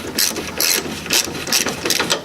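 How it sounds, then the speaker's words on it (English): A ratchet fitted with a 10mm socket clicks in quick repeated bursts close up as it loosens the J-hook nut on a Toyota Corolla battery hold-down, with no talk. "And this, by the way, is a 10mm socket."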